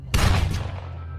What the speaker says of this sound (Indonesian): langsung menembaknya tepat di kepala